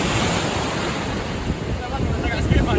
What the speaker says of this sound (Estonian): Vaat seda lainet.